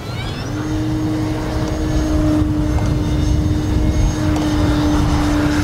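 An RC model airplane built as a Cessna 150 drones overhead with a steady propeller-engine tone. The sound holds close and loud throughout over broad wind and engine noise, with no talk.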